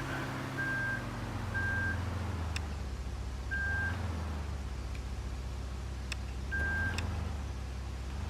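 A tractor in the farming video game Pure Farming 2018 backs up to a trailer, its reversing alarm giving four separate high beeps over a steady low engine rumble, with a few faint clanks and no talking.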